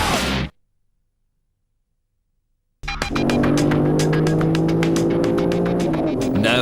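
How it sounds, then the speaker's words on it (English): Turbocharged BMW E36 M3 race car engine at a loud, steady high-rev drone with a rapid pulsing rhythm, heard close up after a brief burst of sound and about two seconds of silence. "No, it's not a German touring car, but the blindingly quick Sav-Speed M3 Turbo, seen here piloted by Sav Galtieri."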